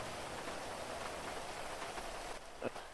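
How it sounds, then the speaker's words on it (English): Rain falls steadily in the video game GTA V, a soft even hiss of drops on surfaces, faint and continuous, with one brief thump near the end. "I hate rain so much."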